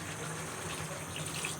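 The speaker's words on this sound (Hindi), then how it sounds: "अब मैं इसमें पानी ऐड कर रही हूँ।" Water pours steadily into a pot of pea rice (matar pulao) over fried tomatoes, a continuous, even splashing rush that lasts throughout with no voices.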